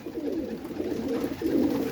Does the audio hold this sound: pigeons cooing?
yes